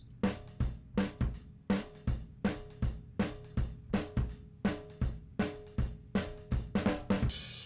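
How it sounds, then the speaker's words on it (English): A full acoustic drum kit mixed with saturation plays a steady groove, with punchy kick and snare hits landing in a regular rhythm and cymbals washing over them, moderately loud with no voices. "now the whole drum kit sounds like this."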